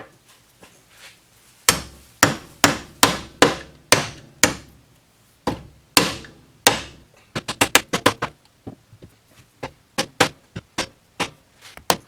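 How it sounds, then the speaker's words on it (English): A hammer drives a trailing arm bushing into a Honda CR-V, striking an old bearing used as a driver: sharp, close metallic blows in a steady series, then a quicker irregular run of hits and slower final strikes, with no talking. "I'm taking this old bearing here and I will be hammering it like that"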